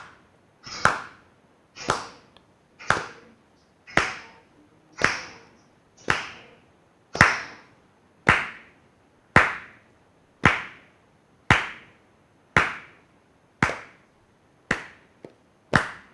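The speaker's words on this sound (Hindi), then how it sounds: "सिंपल ताली देना, ठीक है। हम ताली, ये रिदम हम रख रहे हैं" Single sharp hand claps in a Kathak dance class, about one per second in a steady, evenly spaced rhythm, each crisp and close with a short ring after it, with no talking.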